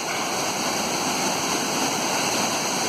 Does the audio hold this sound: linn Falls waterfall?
yes